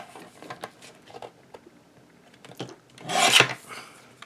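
Light scraping and rubbing sounds come from trimming the edges of a paper card, with soft scattered ticks and a louder rasping cut near the end, heard close up and quiet.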